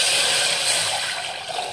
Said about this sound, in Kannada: ಈಗ ಇದರಲ್ಲಿ ನೀರು ಹಾಕೊಂಡ್ಬಿಡೋಣ್ರಿ